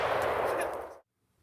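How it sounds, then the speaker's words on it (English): A full-auto burst from a Titan Defense TD 415 upper, an HK 416 clone, fired outdoors: a loud, close, continuous roar of rapid shots lasting about a second, then cut off into abrupt silence. "We went through about 500 rounds, mostly full auto, multiple mag dumps, and not a single failure all afternoon with this upper."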